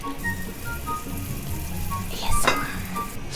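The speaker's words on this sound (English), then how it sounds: "we got some bubbling and sizzling going on" Steady crackling sizzle of puff pastry dough frying in an oiled pan for a scallion pancake, with a brief louder burst of spattering near the end.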